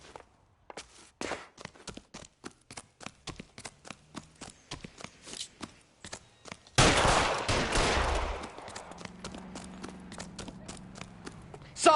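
Gunfire in the video game LA Noire: a long string of sharp, evenly spaced shots rings out, then a heavy, loud burst of noise and rumble takes over and slowly fades to a lower wash.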